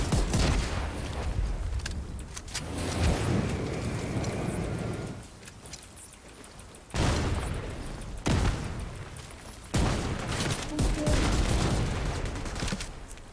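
Gunfire in a video game battle, dense fusillades of rifle and machine-gun shots with bursts of explosions, in loud stretches broken by short lulls.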